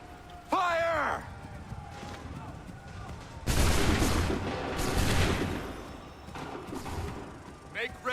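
Musket volleys crack out in Assassin's Creed III, a sharp opening burst followed a few seconds later by a louder, sustained crash of massed fire that tails off, with shouted voices in between.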